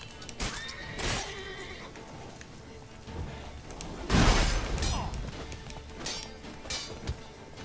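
Horse in The Witcher 3 video game whinnying, with scattered clattering and impacts around it, a loud burst midway, heard in the game's mix.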